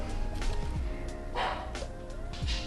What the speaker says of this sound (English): Pudge, why are you barking?